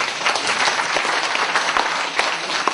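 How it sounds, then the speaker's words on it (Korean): An audience at a university Korean speech contest for international students claps to welcome a professor, a dense even burst of applause held for a few seconds with no talk over it. "박수로 환영해 주시기 바랍니다"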